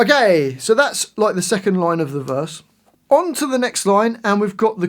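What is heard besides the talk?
No everyday noises stand out.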